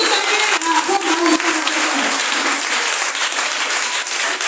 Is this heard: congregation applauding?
yes